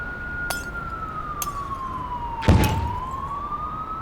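A sustained, swooping police siren runs through a general city ambience layered as a sound effect, with a few brief sharp transients and a louder burst partway through.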